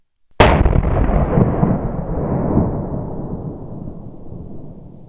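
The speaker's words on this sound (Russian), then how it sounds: "Насколько сильная взрывная волна!" A single powerful pistol shot cracks out sharply, followed by a long, loud rumbling echo that slowly fades over several seconds.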